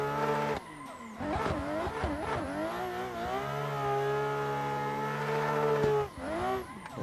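A BMW M4 race car in a racing game revs hard with rising and falling engine pitch through gear changes and tire squeal, loud and steady, with no talk.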